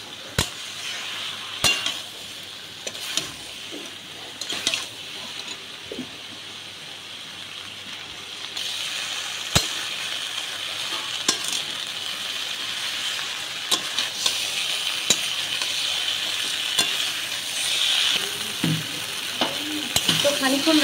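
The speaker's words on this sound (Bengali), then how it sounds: "সরষে বাটা পোস্ত বাটা দিয়েও খানিকক্ষণ নাড়াচাড়া করে নেব।" Mustard and poppy seed paste sizzles in a frying pan for shukto as a spoon stirs it, producing a continuous low hiss with repeated light scraping and tapping strokes that grow slightly louder toward the end; no speech.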